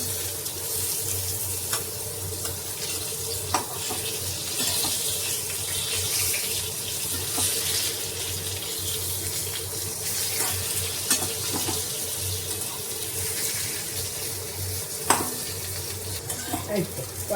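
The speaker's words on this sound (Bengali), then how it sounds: "এখন আমি ঢাকনা খুলে একটু উল্টে দিচ্ছি পটলগুলো" Pointed gourds (potol) fry steadily in a pan on low flame, a continuous close sizzle with scattered clicks and scrapes as the pieces are turned over after the lid comes off.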